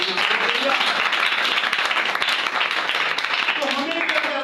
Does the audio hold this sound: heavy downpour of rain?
no